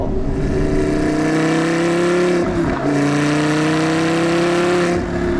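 An Audi R8 GT sports car engine revs loudly and steadily close by, dipping briefly midway before climbing back to a sustained roar.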